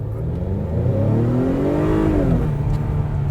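A 2021 Acura TLX A-Spec with all-wheel drive pulls away from a standing start in normal mode, its engine note rising steadily and loud before easing off slightly.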